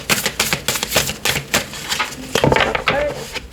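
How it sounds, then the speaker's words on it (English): Rapid riffling and slapping of tarot cards being shuffled, a quick irregular series of crisp taps and flutters. "One more shuffle."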